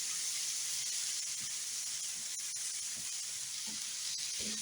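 Steady close sizzle and hiss of water steaming on a hot griddle over burrito filling, with soft scraping and stirring taps scattered throughout.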